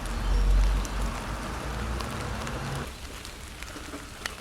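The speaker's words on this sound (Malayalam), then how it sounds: "നല്ല മഴയുടെ സൗണ്ടൊക്കെ ഉണ്ടല്ലേ ബാക്കിൽ" Rain falls outdoors on a wet morning as a steady, diffuse hiss in the background. It is fuller for the first few seconds, then softer.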